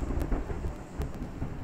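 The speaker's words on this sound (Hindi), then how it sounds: "बिजली की आवाज सुनी?" Thunder rumbles under a steady patter of rain in the PUBG Mobile video game, the low rolling noise swelling and fading across the short stretch without any talk.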